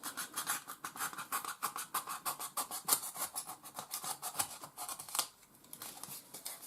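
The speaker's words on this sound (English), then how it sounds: "I'm now going to take the knife, run it along at an angle and just bevel the edges." A knife runs at an angle along the edges of a rough pond shape cut into a tank board, giving quick repeated scratchy cutting strokes in a steady rhythm, close and fairly quiet with no talk.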